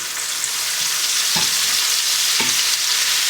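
Paprika-seasoned chicken pieces sizzle loudly and steadily in a frying pan, with two soft clunks as pieces are added or moved, and no talking.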